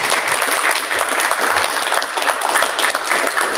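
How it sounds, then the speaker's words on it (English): An audience applauds a speaker at a ballot access strategy meeting, a dense, even wash of many hands clapping that holds steady and fairly loud, with no voices over it. "let's give a round of applause for Desmond."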